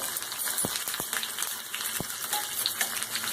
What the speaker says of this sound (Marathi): मोहरी छान तडतड लागली